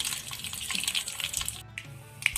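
Half a spoon of mustard seeds spatter in hot sesame oil for mango pickle, a dense, hissing crackle with scattered pops, heard close and steady with no talking.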